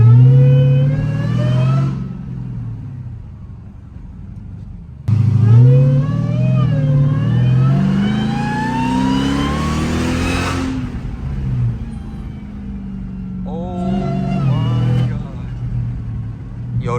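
A 1000 hp Dodge Demon Charger Hellcat with no hood revs loudly while driving, its engine rising and falling in pitch through repeated pulls, close and prominent, with someone talking over it.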